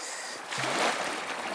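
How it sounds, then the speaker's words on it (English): Wind howls and gusts across Savant Lake in northern wilderness, a close, rough roar that swells midway through the short stretch. "the wind is just howling and gusting"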